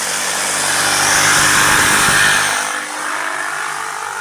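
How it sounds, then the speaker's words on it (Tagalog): A grass cutter's small engine runs close and loud while clearing thick grass, a steady buzzing drone that swells in the middle and then drops back to a lower hum. "Yan na po yung grass cutter"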